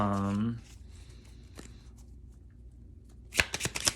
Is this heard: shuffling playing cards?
yes